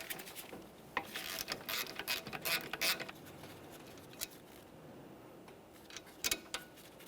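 A hand ratchet turns a front brake caliper bolt on a 2012-2015 Honda Civic, with quick bursts of clicking pawl strokes up close and quieter pauses between them, and no talking.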